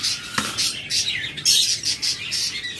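A pair of cockatiels giving shrill, repeated chirping calls in quick bursts, close by, with a faint clink early on.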